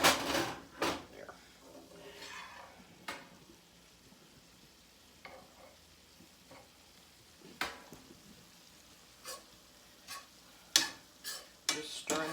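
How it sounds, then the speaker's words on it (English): Italian sausage stirred in a little olive oil in a pan on a stovetop burner: a soft, steady sizzle under repeated sharp scrapes and clinks of the utensil against the pan, with a voice talking at times. "Just stirring this around in a little olive oil, and that's gonna brown it up a little bit."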